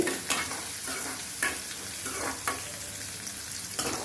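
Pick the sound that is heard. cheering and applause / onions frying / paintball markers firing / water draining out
onions frying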